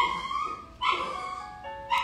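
A small dog whimpers in thin, high-pitched whines that come in three short bursts, close and fairly loud, with no talking.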